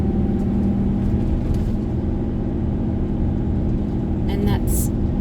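A 2020 Great Wall Steed twin cab ute with a 2.4L petrol engine and five-speed manual drives a rough main street in third gear, giving a steady low cabin rumble and engine drone, loud and continuous from inside.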